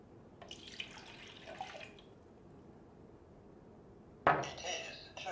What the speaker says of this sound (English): I'm gonna pour some water for this instance.